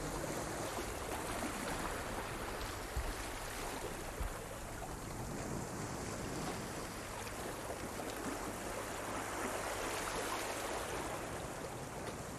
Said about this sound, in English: the relaxing sounds of the ocean, the waves gently lapping at the shore